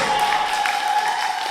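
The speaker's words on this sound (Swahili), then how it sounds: "Piga makofi na vigelegele kwa Yesu." A church congregation claps steadily in a dense, continuous wash of applause, with a sustained high-pitched ululation-like tone running through the short stretch.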